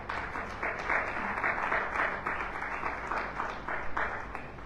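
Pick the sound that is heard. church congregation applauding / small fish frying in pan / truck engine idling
church congregation applauding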